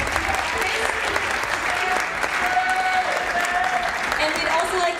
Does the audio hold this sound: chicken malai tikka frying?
no